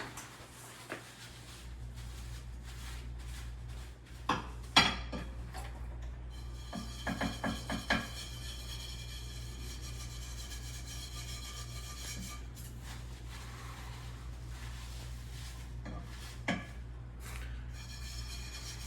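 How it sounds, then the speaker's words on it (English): Someone scrubbing a frying pan with burnt-on residue, making steady rasping rubbing strokes against a constant low hum, punctuated by occasional knocks and scrapes. "Now I'm going to clean this pan rigidly."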